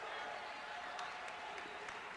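A crowd at a 1995 men's college basketball game between IPFW and Saint Joseph's applauds in a steady, distant wash of clapping, with an announcer's voice running over it.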